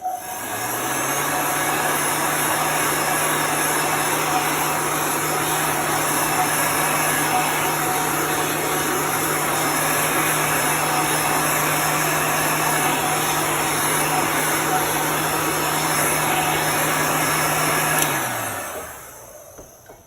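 A handheld dryer blows over chalk paste on a craft project, a loud steady whirring roar that runs continuously for about eighteen seconds before winding down and cutting off.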